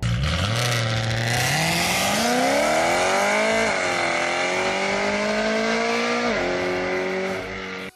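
A V8 engine revs hard and continuously, its pitch climbing, dipping and climbing again across several gear-like sweeps, loud and close, fading off right at the end.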